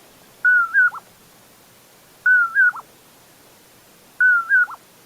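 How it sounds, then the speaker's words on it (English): A common poorwill calls three times, each a clear two-note whistle ending in a short downward slur, evenly spaced about two seconds apart, loud and close against a quiet background. "somebody heard that and said, yes, that bird is saying poorwill."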